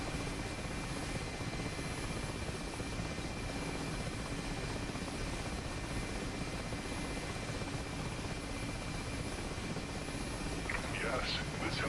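Mi-8 helicopter in the DCS flight simulator, engine and rotor droning steadily and loudly throughout, with a brief higher-pitched sound near the end.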